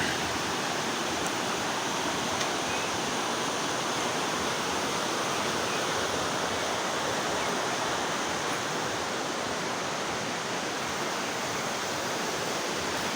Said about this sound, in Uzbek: Mana Shohimardon haqiqiy soylari.